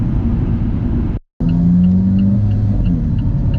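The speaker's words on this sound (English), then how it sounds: "you can really hear the double clutch transmission shifting through the 6 gears" An Alfa Romeo 4C with a six-speed dual-clutch transmission drives along, its engine a steady, loud, close rumble broken once by a brief total dropout partway through before the drone resumes.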